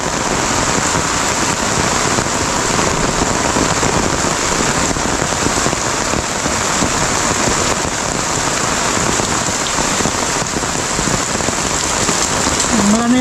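Heavy rain pours steadily onto a vegetable garden of string beans and okra, a dense, constant close hiss with pattering drops that never lets up, with no voices present.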